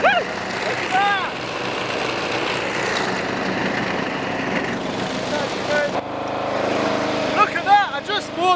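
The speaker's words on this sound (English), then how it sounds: "Now we're mowing the lawn!" Ride-on lawn mower tractor mowing a garden lawn, its engine droning steadily and close throughout, shifting tone midway as it turns, with bursts of excited speech over it near the start and end.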